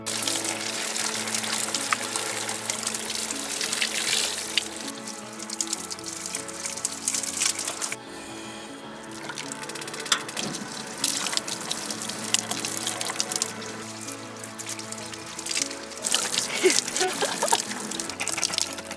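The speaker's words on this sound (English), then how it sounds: "First shower in our cabin." An outdoor hot water shower runs in a cabin, a steady broadband hiss of spraying water with a brief drop in flow partway through, close and continuous throughout.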